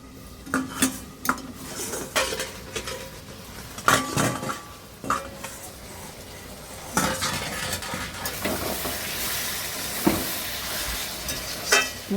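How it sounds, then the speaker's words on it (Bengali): Chicken pieces stirred while frying in a pot make a mix of metal utensil scrapes, clinks and knocks over a soft background sizzle, with irregular louder strikes spread through the stretch. "ঢাকা দিয়ে দিয়ে মাংসটা ভালো করে কষে নেব।"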